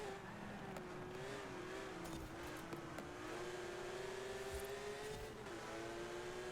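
Several race cars run close together on a track in the Forza Horizon game, their engines droning and shifting pitch continuously, with faint tire noise and no talk over them.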